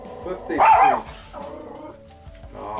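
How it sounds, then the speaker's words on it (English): A pet dog gives a short burst of loud barks nearby, followed by softer yips, while a person talks indoors. "Ah, that's the dog."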